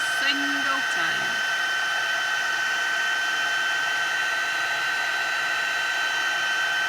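A heat tool for embossing blows hot air in a steady, loud, even whine with no pauses, after a brief rising start.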